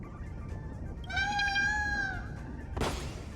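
A paper bird in a video game gives a single high, whiny, meow-like call lasting about a second, followed by a brief sharp burst, over low steady background noise.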